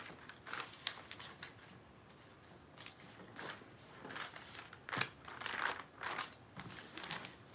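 Scissors snip through fabric for a bustier gown, with a quiet, irregular run of short crisp cuts and rustles close by, no voices.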